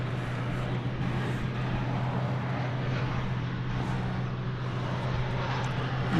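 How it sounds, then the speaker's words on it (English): An American Airlines Airbus A321 jet at Dallas Fort Worth airport at night gives a continuous, even engine roar with a steady low hum, heard at a moderate distance with no talk. "It's an Airbus A321."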